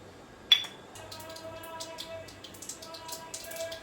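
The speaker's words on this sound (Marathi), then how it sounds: "आणि बघा मोहरी फुटली।" Mustard seeds popping and spluttering in hot oil in a kadhai while a cowpea-pod vegetable dish is prepared, a sharp crackle at the start followed by scattered small pops and soft sizzling.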